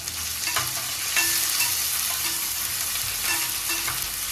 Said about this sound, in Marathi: आपण आले लसणाची पेस्ट घेतोय हे बघा चांगलं परतवून घ्यायचं आहे